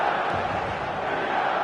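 Stadium crowd at a capacity football match in a video game, a steady dense roar of many voices holding at an even level throughout with no single voice standing out.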